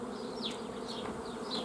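Honey bees buzzing around a hive while frames are worked during beekeeping, a dense continuous drone with individual bees whining past close by, no voices.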